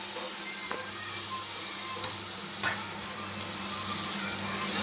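Half a kilo of beef liver frying in a pan with chili powder, a low steady sizzle with a few faint clicks of utensils, fairly quiet and without speech.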